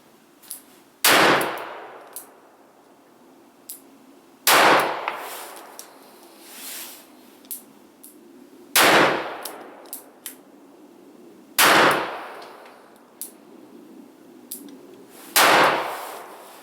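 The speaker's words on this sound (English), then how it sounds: "gun that we're going to shoot is the Smith & Wesson Bodyguard" A Smith & Wesson Bodyguard .38 Special snubnose revolver fires five sharp, loud shots at slow, even intervals, each one ringing off briefly, with small clinks between them.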